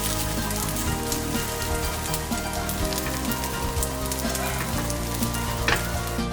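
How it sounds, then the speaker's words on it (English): Glutinous rice cake pan-fries in a hot pan with dense, continuous sizzling and crackling spatter, close and steady with no voices. "The common way to enjoy it is pan-fried."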